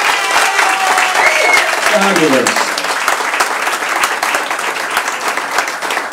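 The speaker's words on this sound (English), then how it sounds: "give yourselves a round of applause" A large studio audience at a live talk show about psychics and haunted inns claps steadily and loudly throughout, a dense sustained round of applause with a brief spoken word from the stage partway through.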